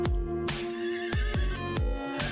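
A New Forest pony neighs loudly and close by on open moorland, a series of sharp, rough whinny bursts in quick succession with no other sounds.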